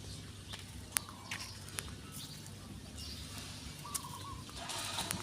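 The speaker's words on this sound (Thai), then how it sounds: "มีเสียงนกห้องเนาะ" Birds call now and then outdoors, faint and fairly distant chirps scattered over a low steady background hum, with no talking.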